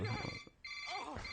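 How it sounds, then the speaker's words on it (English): A telephone rings with a steady electronic tone throughout, fairly close, mixed with people talking over it. "Oh, that's my phone."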